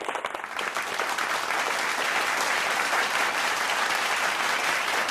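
A packed hall applauds at a Tamil student speaking competition, with thick, sustained clapping from a large crowd that swells within the first second and then holds loud and even to the end.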